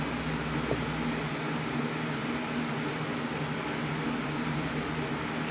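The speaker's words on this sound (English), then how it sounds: "The cricket is cheering us on." A cricket chirps steadily in regular short pulses throughout, moderately loud over a constant low hum in a garage during a Mustang 4.10 gear swap.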